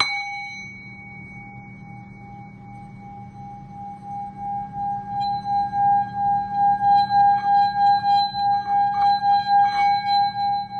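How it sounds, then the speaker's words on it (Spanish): Singing bowl struck and then rimmed, its clear ringing tone holding steady before swelling into a pulsing, wavering hum that grows louder, played alone without talk. "Este cuenco fue mi primer cuenco, mi adquisición maravillosa."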